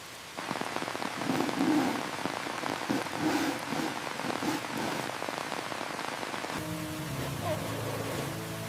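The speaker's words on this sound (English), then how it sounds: "Oh my, that rain." Steady rain patters and drums on a tent, loud and close, with a brief voice near the start and a change in tone near the end.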